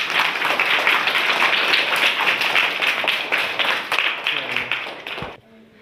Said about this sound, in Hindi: इन दोनों के लिए जोरदार ताली हो जाए